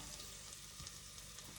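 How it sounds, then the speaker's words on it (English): Sherry wine or vinegar cooking off in a hot pan for a French onion dish, a steady close hiss and sizzle with no talking. "Just cook that off a little bit, whether it's the sherry wine or whether it's the vinegar, just cook it off."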